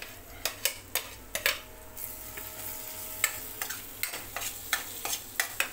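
Grated boiled eggs stirred into frying masala for street-style anda ghotala: a low, continuous sizzle punctuated by a regular run of metallic scraping clinks from a spoon against the pan, close and without speech.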